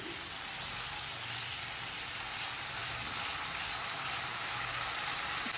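Masala for kadhi frying vigorously in mustard oil in a kadai over a high flame, giving a dense, even, continuous sizzle that stays loud and steady throughout without any talking.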